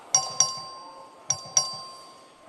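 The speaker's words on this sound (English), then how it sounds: "The clerk ring the bell." Voting bell in the Texas House of Representatives chamber during a record vote, sounding as bright ding-dong chimes in two pairs of sharp strikes with ringing decay, moderately loud in a quiet room.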